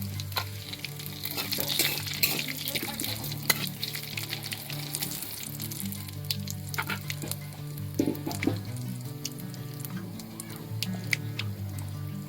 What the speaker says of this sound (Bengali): একটা শুকনো লঙ্কা দেব, হালকা জিরার ফোড়ন, কয়েকটা তেজপাতা